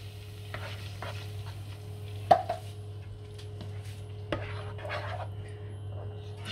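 Tomato sauce goes into a pan of browned ground-meat meatballs, heard as a low steady sizzle under a hum, with a couple of sharp utensil clinks against the pan.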